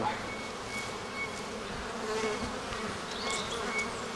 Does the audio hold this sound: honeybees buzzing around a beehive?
yes